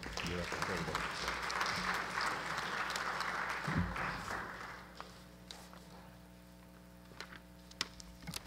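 An audience at a university physical education school's anniversary ceremony gives hearty applause that fills the first half, then fades into a quiet room with a low hum and a few scattered claps.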